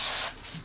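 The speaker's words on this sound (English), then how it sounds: "like these types of quiet compressors because I had an old diaphragm one" A quiet airbrush compressor sprays paint onto a model of a German WWII Sd.Kfz.251 half-track in a garage, a short soft hiss that fades quickly into near silence.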